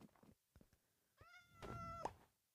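Cats meowing in the Minecraft video game, a couple of short soft cries followed by a longer, drawn-out meow, fairly quiet and close with no talking over them.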